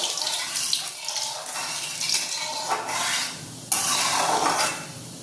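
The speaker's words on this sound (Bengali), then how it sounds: "আমি শুধুমাত্র কালো জিরেটাকে ফোড়ন দিলাম, আর ফোড়ন দিয়ে কিন্তু একদম মিশিয়ে নেব।" Black cumin seeds tempering in hot oil in a pan, stirred: a steady broadband sizzle with scraping stirs, a sharp louder burst partway through, no talking.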